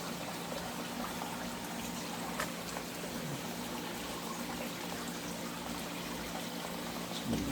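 Steady trickling water from a dehumidifier drain line dripping into a container, continuous and fairly quiet under a constant background hum, with no talking.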